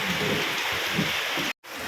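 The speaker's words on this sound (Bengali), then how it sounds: "এইরকম বৃষ্টি পাহাড়ে" Steady rain pours in the hills around Paparkheti, a dense, continuous hiss that stays even throughout and cuts out briefly just before the end.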